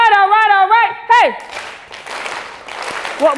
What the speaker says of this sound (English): And then you're going to start clapping.